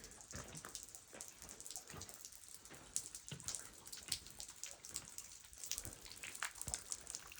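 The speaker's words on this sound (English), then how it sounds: "It's dripping from that clump up there." Water drips from a clump of rock and vegetation above a small rocky pool at Dripping Springs in the Grand Canyon, making a steady patter of scattered, irregular drops with no talking.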